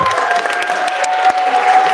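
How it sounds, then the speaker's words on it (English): Audience applause fills a grade 6-8 elementary school assembly for Black History Month, a steady crowd of clapping hands that runs the whole stretch without letting up. "let's give 310 a round of applause."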